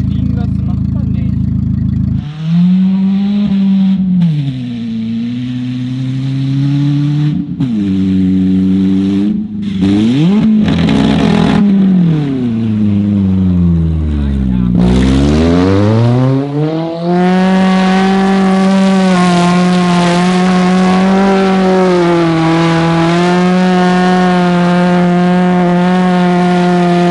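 A car engine revs hard and climbs through the gears, its loud droning pitch rising and dropping with each shift, including a deep dip and a sharp climb midway, held close and continuous with voices under it.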